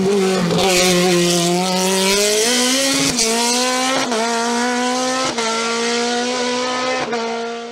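A Tatus Formula Master single-seater race car climbs the Vuillafans-Echevannes hillclimb in 2022, its engine screaming loudly and close, with rising revs broken by quick gear-shift dips.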